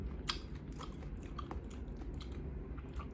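Someone eats cooked pechay with egg, chewing and biting up close. Quiet moist chewing is broken by a few crisp crunchy bites, with no talking.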